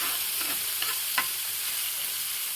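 Cut chicken pieces frying in a pan for a potato dish, a dense close sizzle with a few quick scraping stirs near the start.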